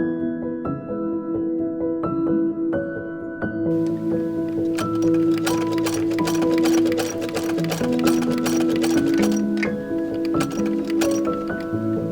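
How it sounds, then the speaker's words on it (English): A sewing machine stitches a second layer of wool to the lapel of a Victorian walking suit. It runs as a loud, close, rapid mechanical rattle with clicking and ticking, starting softly and then stitching steadily without talk. "it's time to stitch the second layer of wool to the lapel"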